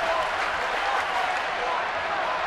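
A large crowd at a San Diego Padres at San Francisco Giants baseball game cheers and applauds in a steady roar, with a commentator talking over it.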